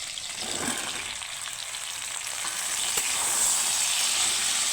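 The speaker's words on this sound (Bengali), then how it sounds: "তো পটলটাকেও আমি একসাথে ভেজে নেব" Potatoes and pointed gourd fry together in a pan, producing a loud, steady hiss of oil that swells a little over the seconds, heard up close with no voices.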